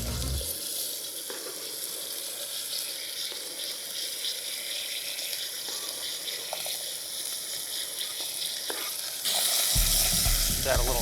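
Red and green peppers, celery and andouille sausage sizzle steadily in an oiled pan with a dense, even hiss, faint clinks of stirring, and a louder surge of frying near the end.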